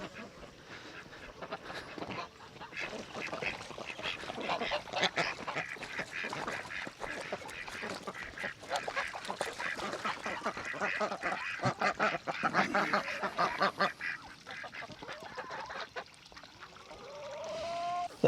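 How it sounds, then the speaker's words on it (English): A flock of ducks quacks close by, with overlapping calls and honking building and fading over the outdoor setting for nearly twenty seconds. "let's go see the ducks"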